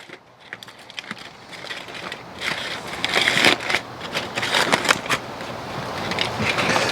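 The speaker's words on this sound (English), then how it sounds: "So we're going to unwrap these and dump all the juice right in the tray." Frozen ribs being unwrapped and their juice dumped into a tray, a run of crinkling, crackling wrapper noises that grows louder and busier, heard close with no talking.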